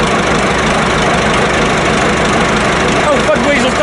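An old Massey Ferguson 1080 tractor's diesel engine runs at a steady, knocking idle, close and loud, with someone talking over the rumble.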